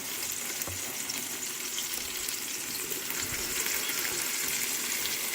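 Oxtails brown in a hot pot, a continuous even sizzle of searing meat heard up close with no talking.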